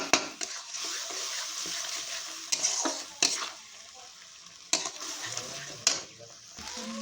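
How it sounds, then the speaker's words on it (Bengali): Spice paste of ground cumin and turmeric being stir-fried in a pan, a continuous sizzle broken by repeated scraping strokes of a spatula against the metal, close and fairly loud. "খুব ভালো করে কষিয়ে নেব।"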